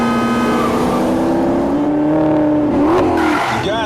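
A car accelerating hard at high speed, its engine note climbing steadily in a loud, continuous roar with a brief squeal of tires near the end.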